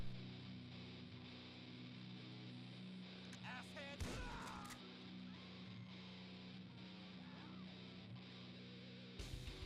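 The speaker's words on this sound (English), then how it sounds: "Third test is a shotgun. That has just more of a push knockdown effect." A shotgun blast in GTA V with the Euphoria ragdoll mod, with a sharp crack near four seconds and a second burst at the end, over steady game ambience and engine drone.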